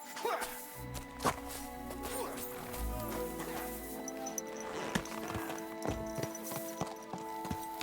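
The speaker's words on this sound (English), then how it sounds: "Easy, good horse." Horse hooves clip-clop at a walk in the medieval game Kingdom Come: Deliverance II, a steady close rhythm of hoofbeats mixed with ambient game sound and a faint snort or whinny.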